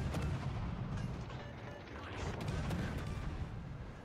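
Warship guns firing in World of Warships Legends, heavy booming blasts rolling over a dense low rumble of naval battle, repeated and fairly loud without speech.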